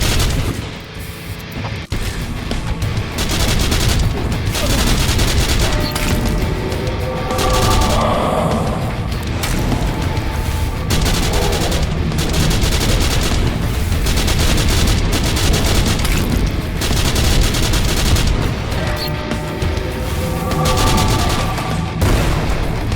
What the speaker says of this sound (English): your adrenaline starts pumping as you're going around blasting everyone with a shotgun